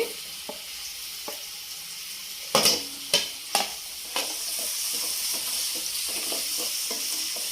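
Carrot, capsicum and beans are stir-fried in a hot pan for mushroom fried rice, giving a steady close sizzle broken by a few sharp scraping clatters of the spatula early on, then settling into continuous frying hiss.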